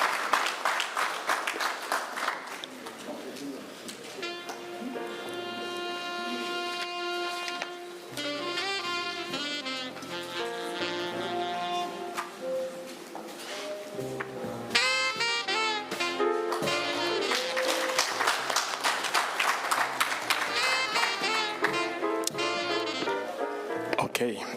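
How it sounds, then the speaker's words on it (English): Sustained audience applause fills a conference hall at a Zimbabwe Prisons and Correctional Service parole conference, steady and moderately loud, with a voice speaking over parts of it. "We can give him a round of applause."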